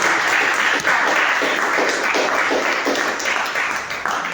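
A church congregation applauds during a service, a thick, continuous wash of many hands clapping that holds strong for several seconds and eases slightly near the end.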